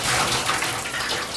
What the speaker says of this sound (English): I'm just going to strain the potatoes now